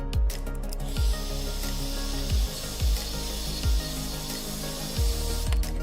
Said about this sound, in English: we're gonna blow some heat and then we're gonna take out this screen